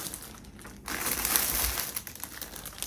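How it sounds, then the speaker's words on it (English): Plastic yarn packaging crinkles close by in a brief rustling burst that swells and fades over a couple of seconds, with no talk during it. "please excuse the crinkling."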